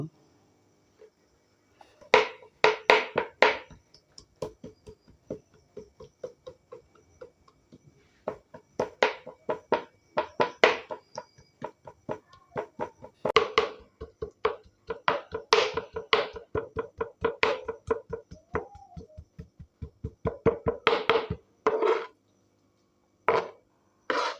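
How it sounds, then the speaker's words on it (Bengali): Rapid, even knife chops as boneless chicken breast is cut into mince on a board, sharp close taps coming in long bursts with short pauses between them. "এখন এটাকে কিমা করে নিব পিস পিস করে কেটে নিব"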